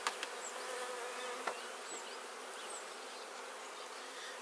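A steady, dense hum of many honeybees buzzing together inside a hive, soft and continuous, with faint individual insects passing close.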